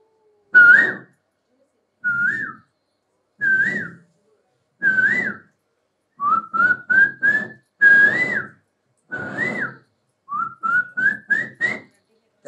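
A mimicry artist at a stage mimicry festival whistles a cuckoo's call, short bright rising-and-falling notes spaced about a second apart, some grouped into quick ascending runs of four, loud and clear with silence between.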